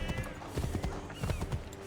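Horse hooves clip-clopping in Assassin's Creed 3, a steady run of close, rhythmic hoof strikes with game ambience underneath.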